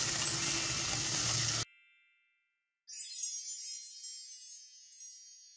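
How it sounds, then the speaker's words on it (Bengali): Mung dal tipped into a pan of cooked-down spice masala, with a loud sizzling rush that cuts off abruptly, then a pause and a fainter high-pitched hiss and clink. "এবার এর মধ্যে আমি ডালটা দিয়ে দেবো।"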